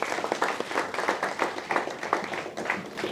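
An audience at a satirical stage play applauds the lights and sound men with steady, moderately loud clapping from many hands that holds without pause.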